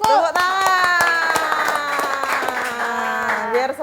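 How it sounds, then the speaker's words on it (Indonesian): Indonesian studio audience clapping together on cue, the sharp, fairly regular claps carried along under sustained music and voices for a few seconds. "Tepuk tangan sih."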